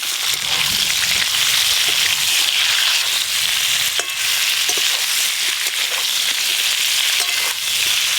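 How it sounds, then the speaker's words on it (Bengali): Eggplant pieces with a little turmeric sizzle in a pan after potatoes were fried, a steady close frying hiss with occasional crackles and stirring scrapes. "না না, বেগুন একদম হালকা করেই ভাজছি।"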